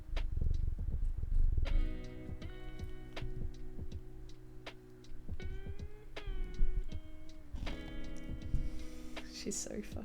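A domestic cat purrs close by, a low steady rumble beneath soft tonal sounds and light clicks. A person talks quietly in the background.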